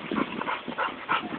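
A puppy whimpering and whining in short, high, pleading yips, several close bursts in quick succession over a brief stretch.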